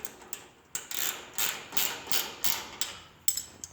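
A hand ratchet clicks as tailgate hinge bolts are snugged up on a pickup tailgate install, several short metallic ratcheting bursts in a steady rhythm, close and fairly crisp, with no talking.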